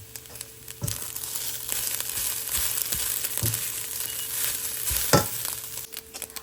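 Salted and peppered food sizzling steadily in a frying pan while being mixed, with a few sharp scraping strokes of the spatula standing out above the continuous frying hiss.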